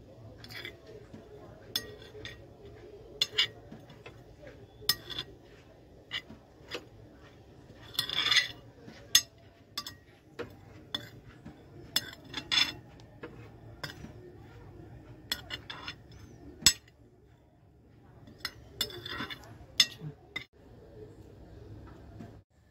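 Cauliflower is mixed with spices and salt in a bowl for stuffed parathas, with scattered light clinks and taps of utensil on dishware over a quiet kitchen background, irregular and fairly close.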